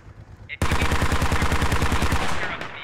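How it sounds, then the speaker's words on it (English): Heavy machine gun firing in the Squad military shooter game, a long, loud, rapid sustained burst of evenly spaced shots after a brief quiet moment, then abruptly stopping. "HMG and now actually engaging"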